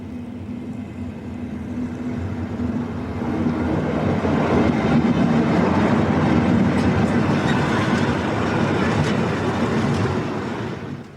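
Railway wagons rumble through a marshalling yard in Germany, a low continuous roll with faint clatter that builds in the middle and then eases, heard from a moderate distance without voices.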